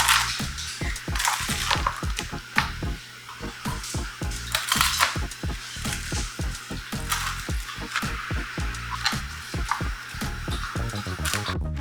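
A knife chops through a Detroit-style pizza in a 9x13 pan with rapid, crisp, close-up cuts, each stroke a sharp crunch and clack against the metal, repeating steadily throughout.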